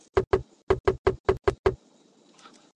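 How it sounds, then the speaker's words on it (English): A rubber mallet knocks wheels onto axles in the Tonka Workshop video game, landing about eight sharp, hollow knocks in two quick groups, close and loud, then fading to quiet. "Knock the wheels on the axles using the rubber mallet."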